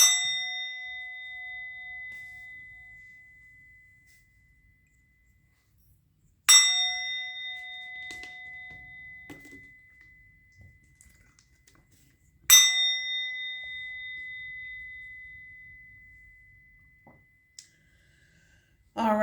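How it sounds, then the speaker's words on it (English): A bell is struck three times at even intervals, each ring a bright metallic ding with a clear ringing tone that slowly fades into silence before the next, alone in a quiet room. "I'm going to ring the bell."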